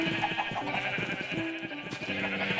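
Sheep bleating on a Minecraft farm, several repeated wavering bleats in quick succession over a steady background hum.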